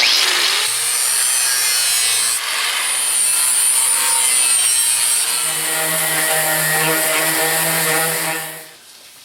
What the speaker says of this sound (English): I just use a sanding pad on there